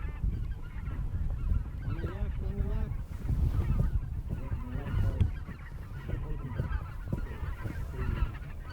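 A large flock of specklebelly and snow geese honks continuously overhead and nearby during a hunt in Alberta, a dense, overlapping chorus of calls at varied distances.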